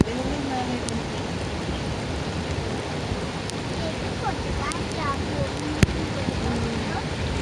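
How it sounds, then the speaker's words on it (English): Heavy rain pours near a dam with many floodgates open, a dense, steady roar of water and rain filling the whole clip, loud and close, with faint scattered clicks and no clear talk. "Rain is very much heavy."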